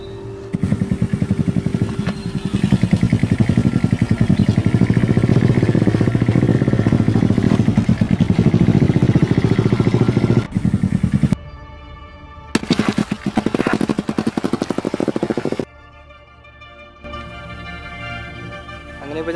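Motorbike climbing a rocky off-road route with large stones, engine revving hard and labouring steadily up close, punctuated by clattering and brief pauses where the engine drops out before picking up again.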